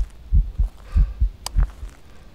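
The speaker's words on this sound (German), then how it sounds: "ich hab grad einen Herzschlag gehört hier im Haus." Deep, regular heartbeat thuds from the ghost-hunting game Phasmophobia pulse in pairs inside a haunted house, close and fairly loud, with a brief sharp click partway through.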